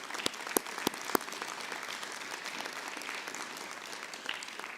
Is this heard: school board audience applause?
yes